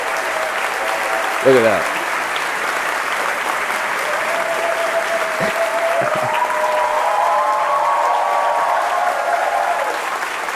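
A large live crowd at a comedy livestream show applauds and cheers steadily and loudly throughout, with someone talking over the applause.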